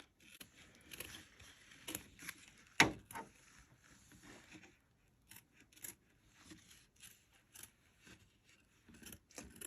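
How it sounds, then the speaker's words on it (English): Scissors trim a fabric circle in a quiet room, soft snipping and rustling cuts coming in short irregular bursts, close but faint. "I'm going to trim the circle"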